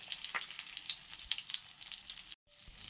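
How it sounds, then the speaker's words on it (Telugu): Eggplants frying in a pan for an Andhra-style stuffed eggplant masala curry, a steady close sizzle with crackling pops, cut by a brief silence near the end. "సో కొంచెం చూసుకొని టూ సైడ్స్ తిప్పుకుంటూ ఇలా ఫ్రై చేసుకోండి"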